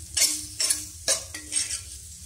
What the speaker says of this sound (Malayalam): എല്ലാം കൂടെ നന്നായിട്ടൊന്ന് മിക്സ് ചെയ്ത് കൊടുക്കുക.